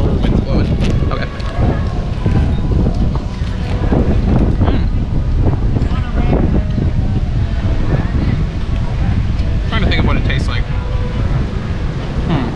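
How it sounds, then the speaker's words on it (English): Strong wind buffets an outdoor microphone in a steady, loud rumble with gusty bursts, while a person talks intermittently over it. "Wind's blowing."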